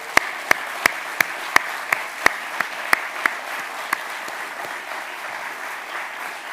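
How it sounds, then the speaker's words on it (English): At a memorial gathering, an audience gives a sparse round of applause: a series of distinct, sharp claps, about ten, spaced unevenly, that thin out and fade into quiet room tone. "maybe a big round of applause for everyone's amazing work today."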